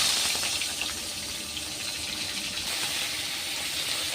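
Fried rui fish going into a hot pan with kalo jeere tempering, jhinge and green chilli, giving a loud, steady, hissing sizzle that fills the whole stretch close up with no voice.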